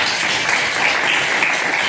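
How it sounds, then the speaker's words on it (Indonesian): A class of students claps together in a classroom, a steady, dense burst of applause lasting a couple of seconds. "Kasih tepuk tangan dulu."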